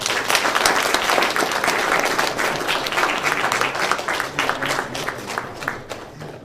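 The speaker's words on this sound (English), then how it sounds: "Let's give a big round of applause." Audience applause following a lecture, a dense burst of many hands clapping close and loud, gradually thinning and tapering toward the end.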